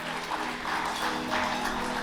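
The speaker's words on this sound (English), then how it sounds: "they deserve a great round of applause" A round of applause from an audience at a sailing club presentation night, a moderate, even patter of clapping hands in an indoor room lasting the full brief moment.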